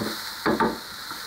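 Carrots stir-fried in a pan sizzle under a steady hiss, while a couple of quick scraping strokes of a utensil come through close and distinct midway.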